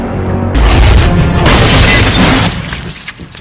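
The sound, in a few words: explosion in zombie movie scene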